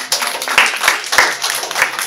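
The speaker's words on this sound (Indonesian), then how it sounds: "sekali lagi tepuk tangan untuk mereka bertiga." An audience claps for three contestants at a Mister University pageant, loud and close with sharp individual claps standing out over a steady crowd patter.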